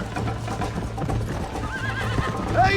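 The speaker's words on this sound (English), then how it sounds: "I think you chose the wrong horse, Miss McFarland." A horse in the Red Dead Redemption video game neighs with rising whinnies over a steady, rhythmic clip-clop of hooves, loud and close with a continuous ambient game background.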